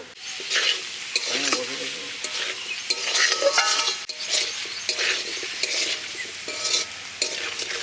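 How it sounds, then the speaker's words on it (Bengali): Potatoes sautéed with ginger-garlic paste and spices in a pan, a loud close sizzle with vigorous stirring and scraping throughout and occasional utensil clinks, with no speech. "আলুর সাথে মশলাটাও দিয়ে দিলাম আদা রসুনটা দিয়ে দিলাম সুন্দর করে কষিয়ে নিচ্ছি"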